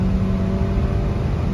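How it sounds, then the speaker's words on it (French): A 2021 Honda Jazz Hybrid accelerates, a brief, steady, fairly loud engine whir heard from inside the car with no talking. "Ça fait un petit bruit de moteur"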